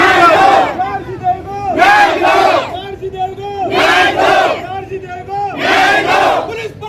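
Large crowd of women protesters surrounding a police station in Ramgarh, chanting slogans against the administration in loud, rhythmic unison, four forceful shouted bursts with short pauses between them.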